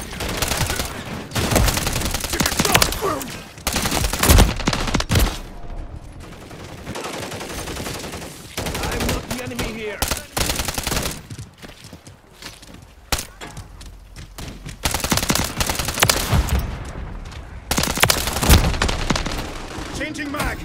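Modern Warfare 3 multiplayer gunfire on the cramped Shipment map comes in loud, repeated automatic bursts with booming explosions between them. Voices talk over parts of the fighting.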